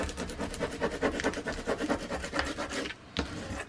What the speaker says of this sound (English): So I'm really burnishing it good.